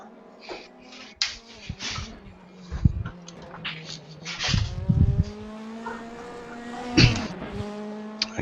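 Racing video game DTM touring car driven on track, engine tone rising and falling through gear shifts with harmonic whines, occasional tire squeal bursts and thumps, loud and continuous throughout.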